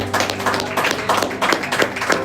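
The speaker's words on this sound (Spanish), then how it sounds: "Démosle un fuerte aplauso a Dios." Church congregation clapping during a Spanish-language sermon: a series of distinct, fairly evenly spaced claps at moderate loudness, with faint tonal sound behind them.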